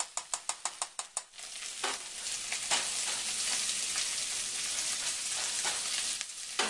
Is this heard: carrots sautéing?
yes